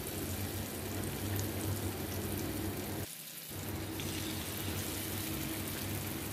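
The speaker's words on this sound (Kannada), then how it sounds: "ನಾವು ಈಗ ಒಂದೊಂದು ಫಿಶ್ ಅನ್ನು ಈ ಪ್ಯಾನ್ ಗೆ ಸೇರಿಸುವ ಪ್ಯಾನ್ ಗೆ ಸೇರಿಸಿ ಫ್ರೈ ಮಾಡುವ" Sardines fry in coconut oil in a pan, a steady soft hiss and sizzle like light rain that drops briefly mid-way before resuming at an even, quiet level, with no talking.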